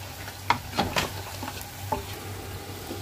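Meat cooked with satkora citrus and potatoes being stirred and fried in a pot at an Eid family party, with soft sizzling under a few sharp scrapes and clinks of the spoon.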